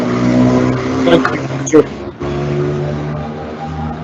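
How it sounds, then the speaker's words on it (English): Road traffic in Paris drifts in through a window as a steady, fairly loud rumble of passing cars, with people talking over it. "I think the traffic noise is from Paris"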